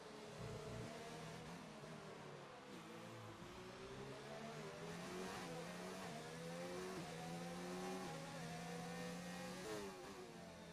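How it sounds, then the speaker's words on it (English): Several Formula 1 cars race down a straight into the Wall of Champions on the Canada circuit in F1 2019, their engines a steady, loud, overlapping drone with rising and shifting pitch as they accelerate. "You can see all of these cars moving down this back straight into the Wall of Champions."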